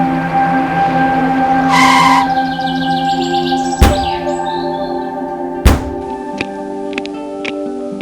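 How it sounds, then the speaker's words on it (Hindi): A car pulls up at a hillside bungalow with tyres scraping and skidding briefly, followed by two heavy thunks like doors shutting, all over a steady background hum with faint tonal music. "गाड़ी की आवाज सुनकर वो बाहर आ गया।"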